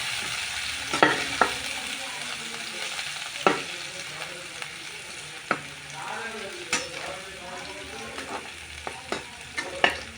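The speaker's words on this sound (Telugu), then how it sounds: "వీటన్నిటిని వేసుకొని బాగా కలుపుదాం." Green chillies, carrot, chopped bajji peppers and cabbage stirred in a hot pan, with soft sizzling frying and scattered sharp scrapes and clicks of the spoon against the pan, close and fairly quiet.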